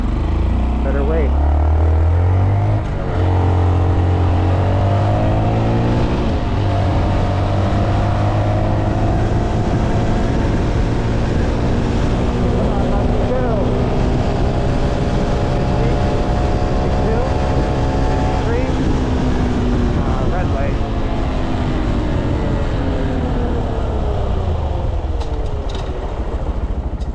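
A Honda Monkey motorcycle engine runs at speed near 53 mph, a steady loud drone with rising and falling harmonic pitch sweeps and wind rush throughout, with a rider talking over it.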